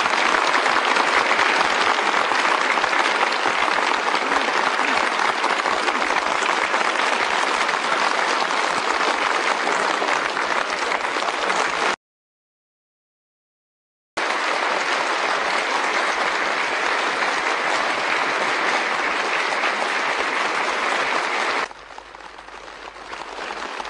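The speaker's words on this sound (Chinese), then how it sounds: "全场再次响起长时间的热烈掌声" A large assembly gives Jiang Zemin long, warm, dense applause after his speech. It holds at a steady, loud level, breaks off in a brief silent gap, resumes, then drops to a quieter patter near the end.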